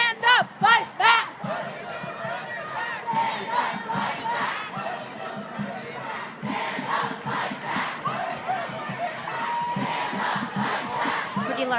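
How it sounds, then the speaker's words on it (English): Anti-Trump protesters gathered at Court Square in downtown Springfield chant in unison, loud rhythmic bursts at first, then a broad, sustained roar of many voices. "Pretty large crowd gathered here at Court Square."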